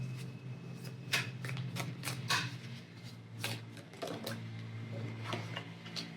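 Tarot cards shuffled by hand in a soft, close, rapid riffling that repeats in short bursts, with brief pauses between them.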